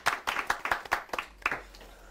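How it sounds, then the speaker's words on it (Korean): A small studio audience claps for a guest at a live business talk show, a handful of distinct, near hand claps in a loose rhythm, fading out after about two seconds. "박수 부탁드리겠습니다"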